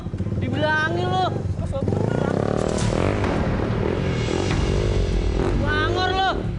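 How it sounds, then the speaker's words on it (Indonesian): A motorcycle is ridden recklessly past on a street, its engine revving and whining loudly, with the pitch sweeping up and down, under excited shouting and overlapping voices. "Woi, naik motor ugal-ugalan lu."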